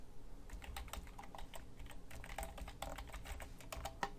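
Rapid, uneven keystrokes on a computer keyboard as an email address is entered for a Heroku login, close and fairly quiet, running steadily throughout with no talking.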